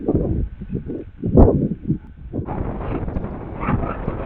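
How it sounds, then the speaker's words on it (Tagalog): Broadband wind rumble buffets the microphone at a cemetery, gusting louder partway through and then holding steady as a strong outdoor wind. "Lakas ng hangin."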